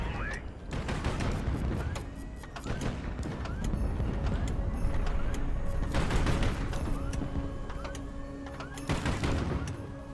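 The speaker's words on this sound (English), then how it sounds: "I'm actually going to launch a missile at him." Missile launch and bursts of gunfire in the video game Highfleet, heard as repeated sharp volleys and rumbling blasts over a steady engine drone, with clusters of shots at the start, middle and end.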